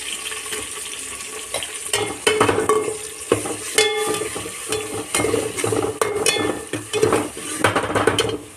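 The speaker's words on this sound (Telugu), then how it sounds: "అల్లం వెల్లుల్లి పేస్ట్ అయితే రెండు స్పూన్లు అయితే వేసుకున్నా" Ginger garlic paste frying in a pan for bagara rice, a loud close sizzle broken by repeated scraping and stirring clatter from a spoon against the pan.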